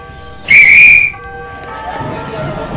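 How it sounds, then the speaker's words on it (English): A single shrill guard's whistle blast at a train departure, loud and close, lasting about half a second, followed by quieter background murmur and faint tones. "the guard blew his whistle"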